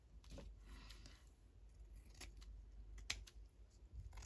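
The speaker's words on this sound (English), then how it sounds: "Surprised those scissors cut them" Scissors snip through a piece of lace in a few quiet, crisp cuts close by, with faint handling rustles between them.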